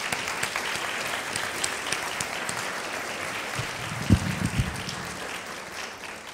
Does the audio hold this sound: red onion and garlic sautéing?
no